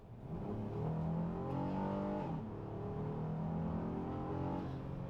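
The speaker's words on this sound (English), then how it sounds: "The acceleration in this car is not that bad." A Honda Odyssey minivan accelerates from inside the cabin, its engine note rising steadily in pitch, dipping briefly at a gear change, then climbing again as a loud continuous drone with no talk.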